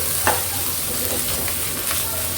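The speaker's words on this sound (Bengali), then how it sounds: "আমি প্রথমে আদা রসুনের পেস্ট 1/2 চা চামচ দিয়ে একটু ভেজে নেব" Half a teaspoon of ginger-garlic paste frying in a pan for noodles, a steady close sizzle with soft stirring scrapes and no talk.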